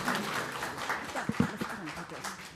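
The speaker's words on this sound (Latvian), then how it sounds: "uztāsim kārtīgs aplausus" A conference audience claps in a steady patter of mixed hand claps, moderately loud in a hall, while a host's voice speaks over it.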